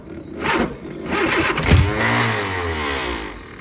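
An Austin Mini Cooper engine cranks and catches, then revs with a rising roar that settles into a steady, fairly loud running note, close by with no talk.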